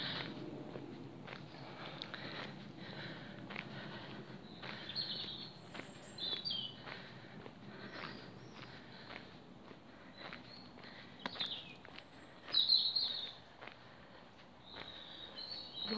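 Robins sing outdoors in the green belt countryside, their brief high chirps faint and distant, scattered over a steady background hum with soft footsteps.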